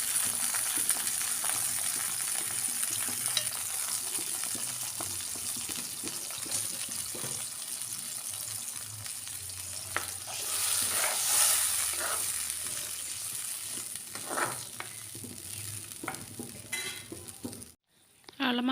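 Hot water poured into a pan and simmering while fish pickle is cooked, with soft bubbling, stirring scrapes and light clinks, quiet and close, ending in a brief silence.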